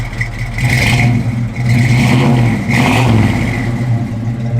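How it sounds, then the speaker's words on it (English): A 1967 Chevrolet Chevelle SS engine revs loudly up close in three surging pulses, rising and falling over a steady rumbling idle. "A little rev, Dale."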